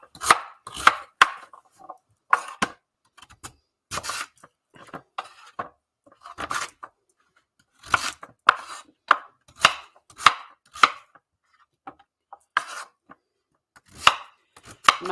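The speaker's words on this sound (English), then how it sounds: "Roughly chopping the sweet potato." A knife roughly chops sweet potato on a board, sharp irregular thuds in short bursts with brief pauses, close and clear with no talking.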